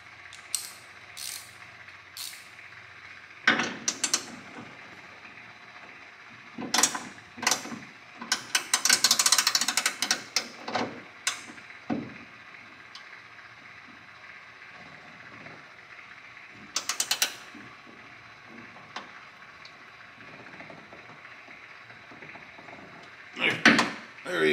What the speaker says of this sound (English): Tighten that bolt up by hand as much as you can. And then we're going to crank on it.